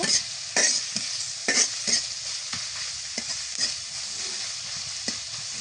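Chopped onions frying in mustard oil in a kadai. Repeated close spatula scrapes and clinks come over a steady crackling sizzle.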